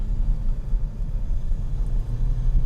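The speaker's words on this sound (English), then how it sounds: "As you can hear, this diesel sounds a little bit more 2005 Passat than it does 2024." A 2023 Genesis G70 Shooting Brake with a diesel engine on the move, giving a steady, low droning rumble from inside the car, with no voices.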